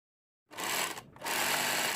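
A sewing machine stitching a garment seam out to the end: a steady close mechanical whir that starts abruptly, dips briefly, then resumes, with no talking.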